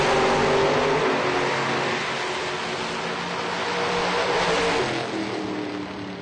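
A red Chevy S10 pickup truck launches at a drag strip, its engine roaring loud and sustained from the start, then easing slightly while staying strong, with no talk over it.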